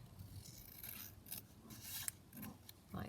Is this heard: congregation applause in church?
no